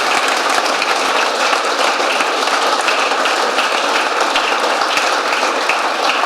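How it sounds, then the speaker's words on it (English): Steady, dense applause from an audience at a talk about the rebuild of Harrier XV741, loud and unbroken for several seconds with no voices over it. "A round of applause."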